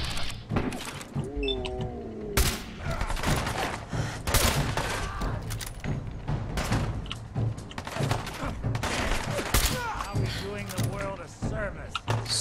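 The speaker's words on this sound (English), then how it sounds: "don't shoot through the windows" Rapid gunfire in Fallout 4 as shots go through windows, repeated sharp cracks and thuds scattered throughout, with someone talking over them.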